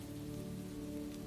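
Steady rain falls on an old brick cottage with a garden, a soft, even hiss that holds at a constant level for the whole stretch, with no voices or other sounds.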